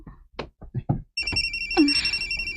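A cellphone ringtone rings out in a Filipino TV drama scene, a steady electronic melody with sustained tones that starts partway through, following several short spoken syllables and continuing loud to the end.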